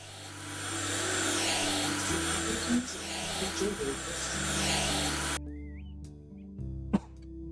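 A window-cleaning tool in the House Flipper video game gives off a steady, loud, vacuum-like whir that runs for about five seconds and then cuts off abruptly. Faint game sounds remain afterward.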